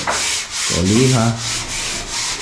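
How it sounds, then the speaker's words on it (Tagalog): Sandpaper rubs across a surface on a home construction project in Tarlac, short repeated scraping strokes close by, with a brief voice heard over them. "liha na sila dito. Doon sa taas,"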